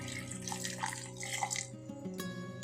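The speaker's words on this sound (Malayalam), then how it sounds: "ആവശ്യത്തിന് വെള്ളമൊഴിച്ച് അരച്ചെടുക്കാം" Water is poured into a kitchen grinder holding grated coconut, fennel seeds and shallots for a curry paste, a steady splashing trickle lasting a few seconds at low volume.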